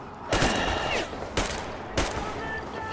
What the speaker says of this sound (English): Oh, I'm still getting shot at.